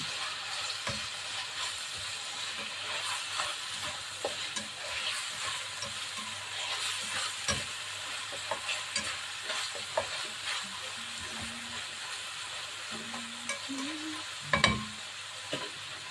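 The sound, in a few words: stirring chicken hotdog pieces in a frying pan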